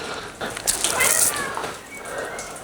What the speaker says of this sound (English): there's an angry cat because he's getting rained on